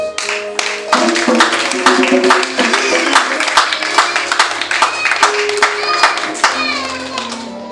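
A church congregation claps in a quick, even rhythm while voices call out and cheer over it, loud and close throughout.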